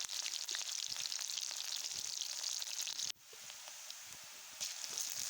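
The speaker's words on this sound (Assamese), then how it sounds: "তেলখিনি পকাৰ পাছত পিঁয়াজ দি দিছোঁ" Onions sizzle steadily in hot oil for an Assamese pork curry, a dense close crackle that drops sharply partway through and then builds back up.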